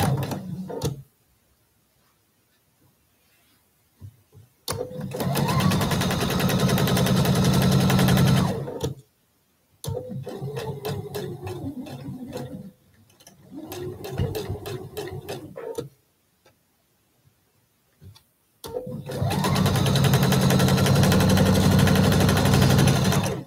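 A sewing machine stitches a quilt block in three loud, steady bursts of rapid needle chatter separated by quiet pauses, with a few light clicks and ticks between runs.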